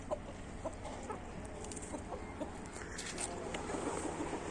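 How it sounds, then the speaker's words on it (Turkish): Several chickens clucking and murmuring nearby, irregular short calls over a steady outdoor background. "Bu tavuk nedense hep bu tarafı istiyor"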